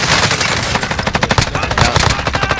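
Machine gun fire in Call of Duty: Warzone, a loud, near, continuous stream of rapid shots lasting the whole stretch, with bursts pulsing in quick rhythm.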